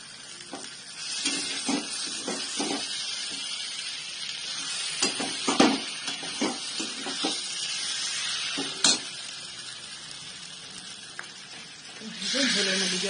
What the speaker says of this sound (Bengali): ঝোলের মধ্যে জলটা দিয়ে দিলাম